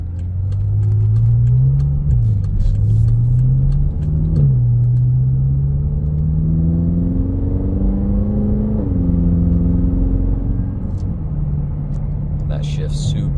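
A 2013 BMW M5 in sport mode idles with a deep, steady rumble, its pitch rising and falling through a few gentle revs; the engine stays loud and close throughout, with a brief voice near the end.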